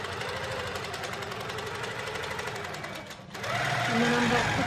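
Close sewing machine stitching, tacking down the bottom of a pumpkin door hanger: a rapid mechanical chatter that pauses briefly, then resumes louder, with faint talk in the background.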